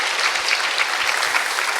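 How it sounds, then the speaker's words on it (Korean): Applause from a church congregation during a sermon, a steady dense wash of many hands clapping at moderate volume, continuous throughout with no voices on top. "그분들을 격려하는 의미로 박수로 격려해 주시면"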